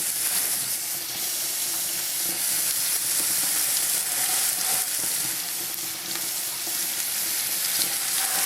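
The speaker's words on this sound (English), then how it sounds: "you'll hear them sizzling away straight away" Steady, loud sizzling and crackling of homemade burgers frying in a hot pan, a continuous hiss with small pops throughout.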